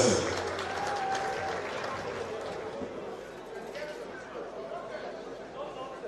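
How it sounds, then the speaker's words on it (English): Applause from a crowd at a London event, strongest at the start and then thinning into scattered clapping and chatter, with voices talking over it. "Please, a round of applause for yourselves"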